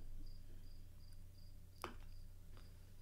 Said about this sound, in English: We're playing the audio right now of crickets slowed down.